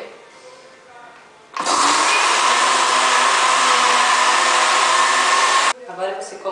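An electric mixer beats eggs for a cake batter, a loud, steady whirring drone that starts abruptly, runs evenly for about four seconds and then cuts off, with quieter kitchen sounds and talk before and after.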